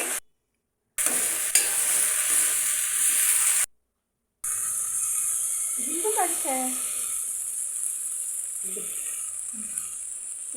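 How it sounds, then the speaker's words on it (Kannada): Cut okra and ridge gourd sizzle and hiss steadily as they fry in a pan, with stirring scrapes now and then and a brief voice partway through; the sound cuts out twice. "ಚೆನ್ನಾಗಿ ಫ್ರೈ ಆದ ನಂತರ ಬೆಂಡೆಕಾಯಿ ಮತ್ತು ಹೀರೆಕಾಯಿ ಕಟ್ ಮಾಡಿರೋದನ್ನು ಹಾಕಬೇಕು"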